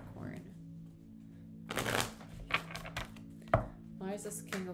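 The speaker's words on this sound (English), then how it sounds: "I'm going to shuffle again." Tarot cards are shuffled in several quick riffling bursts, close and crisp, with a soft voice murmuring in between.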